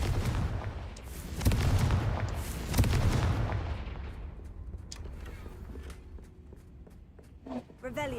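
Blasts of the Confringo spell in Hogwarts Legacy, two heavy booming bursts with rumbling tails amid footsteps and game ambience, followed by quieter sparkling effects.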